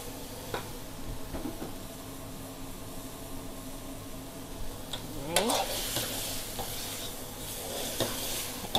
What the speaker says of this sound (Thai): เอากุ้งมาผัดกับหน่อไม้